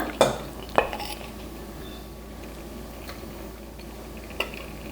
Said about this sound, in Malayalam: ഇതെല്ലാം നന്നായിട്ടൊന്ന് ഇളക്കി